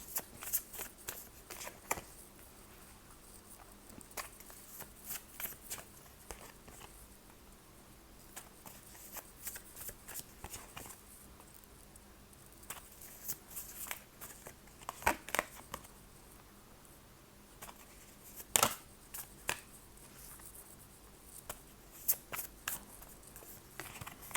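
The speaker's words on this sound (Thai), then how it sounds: "ขอเปิดไพ่ทาโร่ประกอบนะคะ" Tarot cards are shuffled and laid out by hand, producing faint, close riffling, sliding and light tapping in scattered bursts over a quiet background, without speech.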